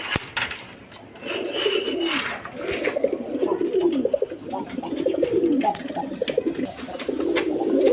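A pair of Kaldom pigeons, one male and one female, cooing close by in soft repeated rolling phrases, with a faint rustle between the calls.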